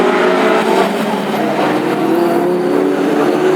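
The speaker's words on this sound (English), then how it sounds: "Battle on already for the lead as Johnson moves on the outside of Gooding" Classic hot rod race cars at Northampton roar around the track during a heat, a dense continuous engine drone with shifting revs, loud and sustained, with no talking.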